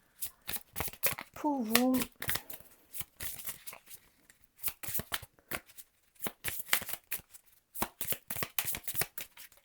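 Small cards are shuffled in quick, crisp riffling bursts that repeat throughout, with someone speaking French briefly between them.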